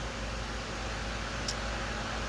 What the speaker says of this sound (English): Sorry about the fan, but it is so humid up here today.